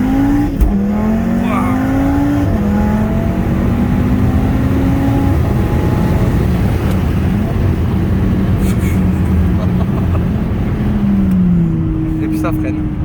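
Audi RS3 with 500 hp and 723 Nm pulls hard with rising engine pitch through several gear changes, loud and close, then settles as it brakes, with tyre noise and people talking over it.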